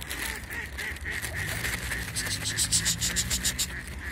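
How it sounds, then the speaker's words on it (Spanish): Ducks and other waterfowl at a park pond in Murcia call in a noisy flock, with repeated honking and quacking calls growing busier toward the end over a steady background. "Vienen dentro los patos aquí."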